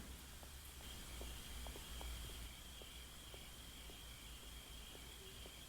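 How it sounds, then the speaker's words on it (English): Crickets chirp in the soundtrack of a 1977 exorcism horror film, a faint continuous high trill over a quiet, hushed background. "Loving the soundscape of this movie, the creepy crickets."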